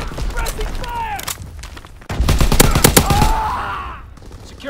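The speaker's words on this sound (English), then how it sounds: "Suppressing fire." Suppressing gunfire in the World War II shooter Call of Duty: WWII: rapid bursts of close rifle and machine-gun fire with booming thuds, cracking in clustered volleys, mixed with game voices and whistling tones.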